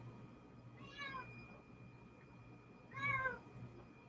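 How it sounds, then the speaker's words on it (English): A cat throwing a fit indoors, two distinct drawn-out meows about two seconds apart, the second louder, over a low steady hum. "Cat is throwing a fit again."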